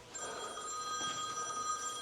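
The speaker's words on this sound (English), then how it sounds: "That'd be the phone, but I won't be getting that at the moment" A telephone rings inside a 2020 Auto-Trail Scout six-berth rear-lounge motorhome, a steady electronic trill lasting about two seconds at moderate volume over faint room noise, with no talk over it.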